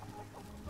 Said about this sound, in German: das Huhn, was hier die ganze Zeit rumläuft